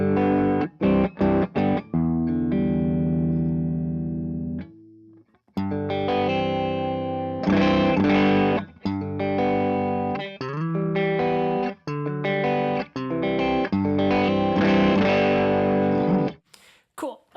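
An electric guitar played through a Pettyjohn Electronics Chime MKII drive pedal rings out in distorted chords and sustained notes with short pauses between phrases, loud and close throughout.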